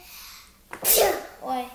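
A child's sneeze bursts out sharply near the mic, preceded by a short exclamation and followed by brief talk, during play with a toy monster figure.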